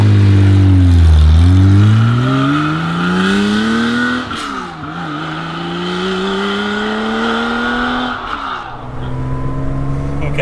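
A Porsche Carrera RS 2.7 sports car with a 5-speed manual box is driven hard. Its engine revs rise and fall loudly and close through several gear changes, with no talk.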